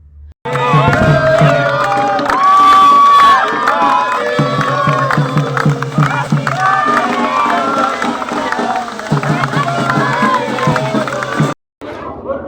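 A crowd cheers and shouts at a birthday celebration as an advocate cuts a cake, a loud, dense, sustained roar of many voices that breaks off abruptly near the end.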